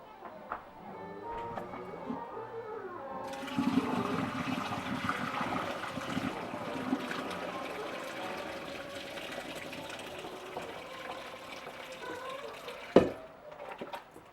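Vinegar water is poured out into a kitchen sink while beet-dyeing fabric, a steady splashing, gurgling stream of liquid lasting several seconds before ending with a sharp knock.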